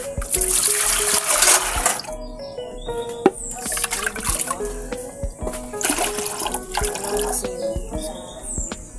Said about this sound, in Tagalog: Hugasin natin ito sa aming lababo.